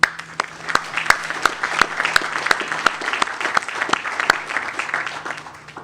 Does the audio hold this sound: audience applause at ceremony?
yes